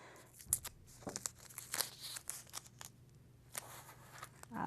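Tape is ripped and pressed onto watercolor paper in a series of close, crisp tearing and crinkling bursts separated by short pauses.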